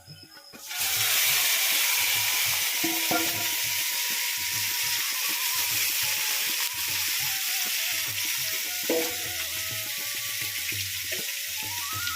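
Spiced duck meat and onions sizzle and fry in a pan while being stirred, a loud steady hiss running throughout with soft scraping stir strokes repeating underneath.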